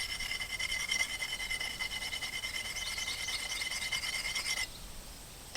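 An axe edge is worked against a sharpening stone in steady, close rasping strokes that run continuously for several seconds, then stop abruptly, leaving a quiet hiss.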